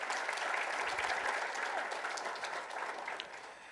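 A crowd claps in appreciation at a July 4th Funfest ambassador scholarship coronation, steady, even applause at modest volume that tapers slightly toward the close.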